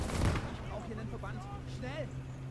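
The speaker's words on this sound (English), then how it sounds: "All right, so it's just a nice Messerschmitt gun run." Messerschmitt aircraft strafing gun run in the Call to Arms: Gates of Hell war game, a dense burst of gunfire and rumble at the start that fades into a steady low drone while someone talks over it.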